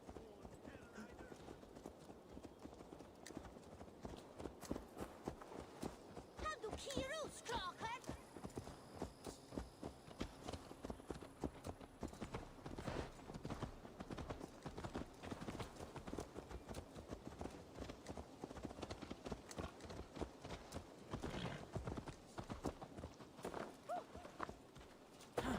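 Horse hooves clip-clop in a brisk, continuous rhythm in Assassin's Creed Valhalla, running throughout under frequent talking voices, with a brief whinny partway through.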